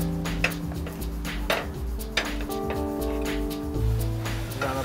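Utensils slicing a grilled dessert pizza topped with ice cream, a few clear knocks and scrapes of metal on a pan over a steady background hum.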